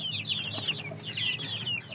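Shamo and Aseel gamecocks cluck in quick, repeated chirpy calls, close and moderately loud, with a low steady hum underneath and no speech.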